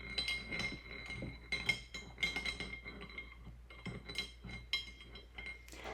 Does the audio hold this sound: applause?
no